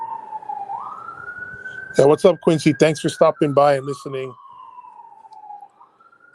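An ambulance siren wails outside in one long steady tone that slowly rises and then falls away, running behind a voice that talks over its middle.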